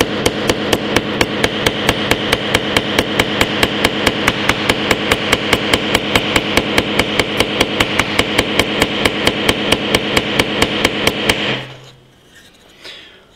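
Rapid, loud, metallic hammer blows strike a nail into the screen of an Oukitel K4000 phone in a fast steady rhythm of dozens of hits, then stop abruptly, leaving faint handling noise.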